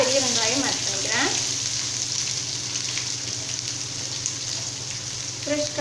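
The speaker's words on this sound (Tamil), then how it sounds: "இப்போ இதெல்லாம் நல்லா பொரிஞ்சு வரட்டும்" Cumin seeds and crushed garlic sizzle and splutter in hot oil in a pan while a ridge gourd pachadi is being cooked, a steady close hiss with a voice speaking over it at the start and end.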